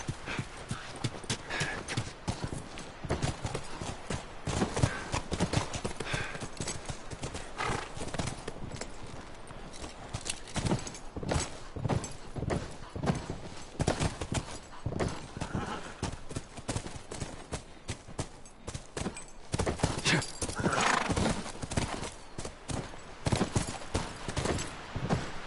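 Steady clip-clop of horse hooves in the video game The Last of Us Remastered, at a brisk, rhythmic pace, close and continuous, with a faint whinny and no speech.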